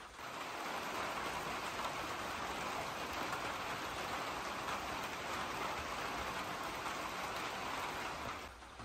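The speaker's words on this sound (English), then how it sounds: "It's the first rain on the actual roof." Rain drumming on the roof of a small cabin on wheels in Alaska: a dense, even hiss of drops heard from inside, steady and moderately loud for about nine seconds, with no voices.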